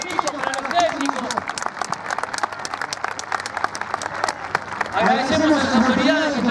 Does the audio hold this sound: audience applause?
yes